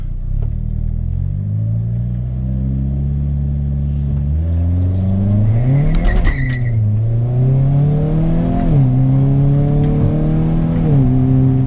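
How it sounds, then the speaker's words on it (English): A 2022 Hyundai Kona N sits with the brake held while the engine is revved for launch control, its loud exhaust rising and falling through several blips, close and alone. "I'm gonna keep my foot on the brake, mash the gas."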